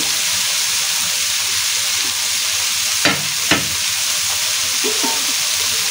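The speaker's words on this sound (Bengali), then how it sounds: "আস্তে আস্তে মিডিয়াম টু লো আছে ভেজে নেব" Cabbage frying slowly over medium-low heat in a pan gives a steady close sizzle, broken by a couple of sharp scraping strokes as it is stirred around the middle.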